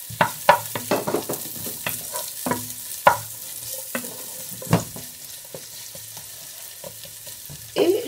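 Onion, ginger and garlic fry in hot olive oil with a soft sizzle, broken by a run of sharp utensil knocks and scrapes against the pot, clustered early and returning near the end.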